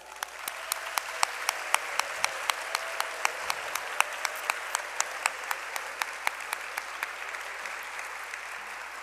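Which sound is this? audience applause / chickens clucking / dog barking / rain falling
audience applause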